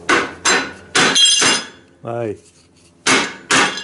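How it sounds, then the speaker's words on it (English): A homemade rawhide hammer strikes something in a series of sharp, close, solid knocks with short gaps between them. A brief spoken word comes partway through. "That still feels like a nice hammer."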